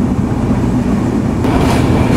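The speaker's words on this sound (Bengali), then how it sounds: "আমাদের সাথে এখানে একটি কমিউটার ট্রেনের ক্রসিং হইল।" A commuter train passes on the Madhumati Express route, producing a loud, steady rumble that holds throughout, with a brighter hiss swelling in the second half.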